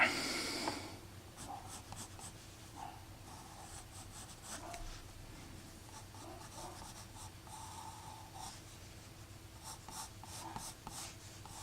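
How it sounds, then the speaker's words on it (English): A coloured pencil scratches and scrapes across paper in quick repeated strokes, soft and close, steady colouring with short pauses. "Okay, I'm going to start colouring this in now."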